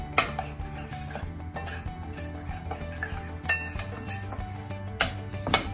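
Flour, salt and chili powder being mixed in a bowl for fried chicken coating, with close, repeated clinks and scrapes of a utensil against the dish and a few sharper knocks.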